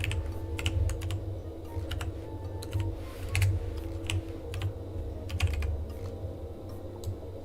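Steady clicking of keys on a computer keyboard as a name is typed, irregular close taps over a low constant background hum, with no talk.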